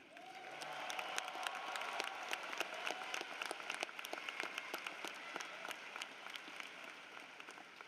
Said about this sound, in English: let's please have a round of applause for the Eastlake High School band